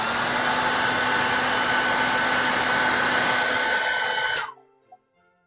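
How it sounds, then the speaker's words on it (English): A hair dryer blows on a small painting, a loud steady whirring roar that runs for about four seconds, then cuts off abruptly and leaves a faint click. "I'm going to get my hairdryer out."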